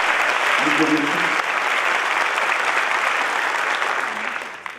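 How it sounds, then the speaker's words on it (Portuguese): An audience at an orchestra concert in a theater applauds a soloist with dense, sustained clapping that holds steady and fades near the end, with a brief bit of voice beneath it. "Bravo, palmas para o César"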